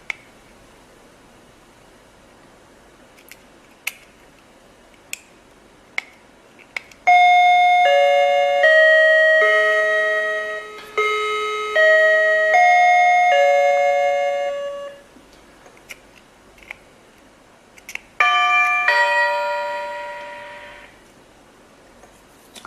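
A wireless doorbell with a broken button, triggered by shorting it, plays two short electronic chime melodies, with quiet clicks and faint rustling in between; no one speaks.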